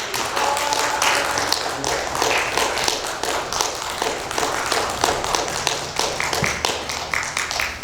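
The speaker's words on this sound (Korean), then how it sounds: "우리 박수로 환영해 맞이하겠습니다." A church congregation claps to welcome a speaker, many hands producing a steady stream of crisp, overlapping claps that lasts several seconds.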